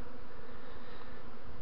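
Dense swarm of honeybees clustered in and around a hollow linden tree, with young queens among them: a continuous, even buzzing hum, close and steady, with no voices.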